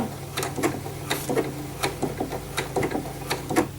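Domestic sewing machine running a short reverse locking stitch at the end of a blind hem, giving a quiet, irregular run of mechanical ticks and needle strokes over a low steady motor hum.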